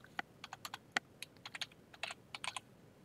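Someone types a short drive label on a computer keyboard while setting up auto-mounting in Linux Mint: a quiet, uneven run of crisp key clicks with small pauses between bursts, close by and with no voices.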